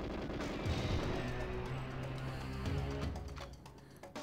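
Video game gunfire crackles in dense, loud bursts of repeated shots with booming low impacts, continuing steadily before thinning out.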